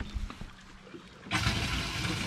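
Water gushes into a fishing boat's live well, a loud broadband rush that kicks in suddenly partway through after a quieter stretch of low knocking and handling noise.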